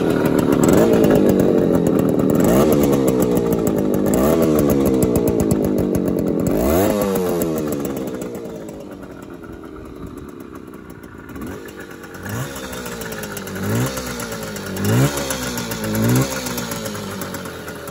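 A classic Suzuki T125 Stinger, a roughly 15-horsepower 125cc motorcycle, runs up with loud, buzzing revs that rise and fall repeatedly, then settles to a quieter idle before a series of short throttle blips near the end.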